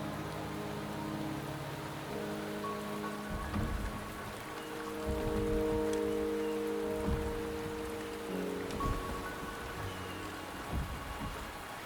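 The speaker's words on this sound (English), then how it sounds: "The rain is subsiding, and the sky will soon clear." Steady rain falls in the video game Wuthering Waves, a continuous hiss of drops on surfaces with occasional low rumbles and soft background music tones, no voices.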